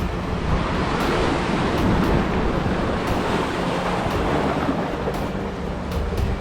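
Waves at a rocky seashore, a loud continuous rush of surf with wind buffeting the microphone, steady throughout with no talk.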